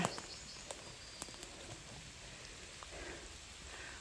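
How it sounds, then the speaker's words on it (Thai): Light rain falls steadily in a Swedish forest on a sunny day of mushroom picking, a soft, even patter with a few sharper drops, heard alone without voices. "แดดออก แต่ฝน ก็ตกนะคะ"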